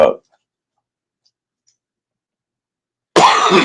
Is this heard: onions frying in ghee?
no